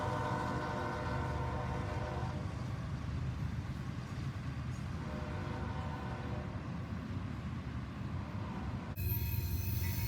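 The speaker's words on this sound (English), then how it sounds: "What you're about to see is a real diamond used by a real train." A real train rolls over a railroad diamond crossing, a steady broad rumble of wheels and rail that holds for about ten seconds, ending in a sharper metallic burst.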